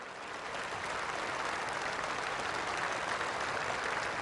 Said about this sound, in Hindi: हम सब इसकी ताली बजाकर स्वागत करें